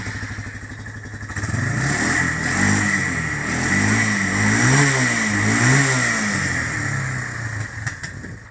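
A Yamaha Bear Tracker 250 ATV engine runs close by, first at a low chugging idle, then rising into a sustained revving drone that wavers up and down for several seconds. No one speaks.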